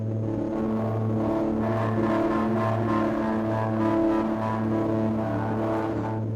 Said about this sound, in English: I switch on the distortion.